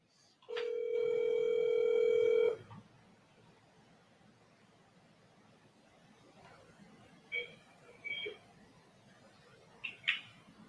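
A phone call rings out while connecting: one long, steady electronic ring tone lasting about two seconds, fairly loud and close, followed by quiet with a few faint short clicks and chirps.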